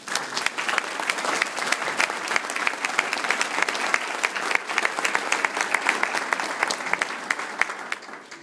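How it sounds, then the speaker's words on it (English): A ceremony audience breaks into sustained applause, many hands clapping in a dense, lively patter that holds strong throughout before tapering slightly at the end. "Please give a round of applause for the FDLE joint."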